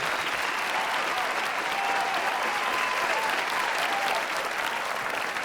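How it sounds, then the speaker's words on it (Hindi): A large crowd at an Urdu poetry mushaira festival breaks into loud, sustained clapping to welcome the host, a dense even roar of hands with faint crowd murmur and a few voices underneath. "आप सबकी ज़ोरदार तालियों के साथ इस्तकबाल करिए इमरान साहब।"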